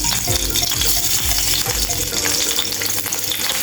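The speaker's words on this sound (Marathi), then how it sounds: "आता तेल छान गरम झालं की त्याच्यामध्ये मी अशा ह्या चार मिरच्या फोडून घालणार आहे" Four split green chillies fry in a spoonful of hot oil in a pan, spitting and crackling loudly and steadily with some scraping stir sounds, no voices.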